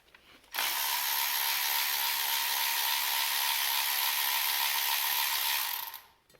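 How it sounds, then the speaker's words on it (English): Steady whirring power-tool run, likely an impact or ratchet wrench spinning off a bolt on an International pickup, loud and close, starting abruptly and holding evenly for about six seconds before winding down. "I'm going to get in there with this wrench and take this off"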